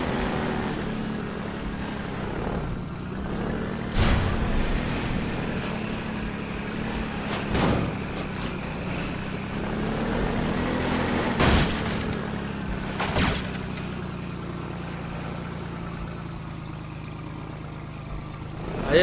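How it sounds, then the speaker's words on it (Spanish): A jet ski engine drones steadily in Half-Life 2, with a few sharp booming impacts cutting through the continuous motor. "Me gusta la implementación aquí de la moto acuática esta."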